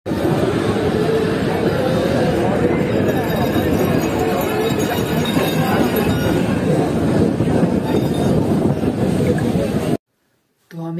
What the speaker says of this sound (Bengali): বাড়ি যাওয়ার ট্রেন চলে এসছে